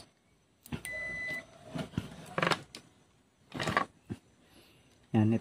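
A multimeter continuity buzzer beeps in short tones while a Shure wireless microphone receiver circuit with no power is tested, close and fairly loud, mixed with clicks of probes and handling.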